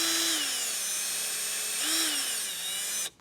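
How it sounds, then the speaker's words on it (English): A power drill with a bit carves a hole in the plastic front bumper of a Maserati Ghibli, its motor whining steadily with two pitch sweeps as it bites, then cutting off abruptly at the end. "using a drill and a bit, I'm going to go in the middle here and start to try to carve out the indentation for the clamp"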